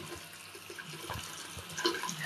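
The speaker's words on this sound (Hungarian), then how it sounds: "Csapot engedtem meg." Water runs from a tap in a busy Budapest plaza barber shop, a steady hiss with splashing that grows slightly louder near the end, no talk over it.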